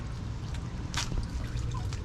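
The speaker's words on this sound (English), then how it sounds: "Oil is still draining." Engine oil drains from a car during an oil change, a steady close liquid trickle and drip with a low background rumble and no one talking.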